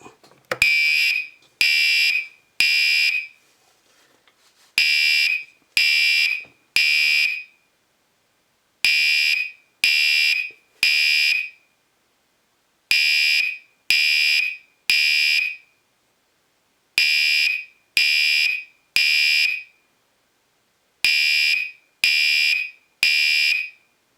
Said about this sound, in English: This is in fact a general notification device doing code 3.